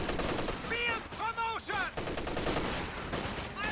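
Rapid gunfire from riflemen squads in a real-time strategy video game battle, dense overlapping bursts under constant combat noise, with a faint voice talking underneath.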